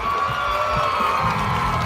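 A Muay Thai fight crowd cheers and applauds after a quick knockout, a steady roar of voices and shouts with scattered clapping underneath, loud and continuous.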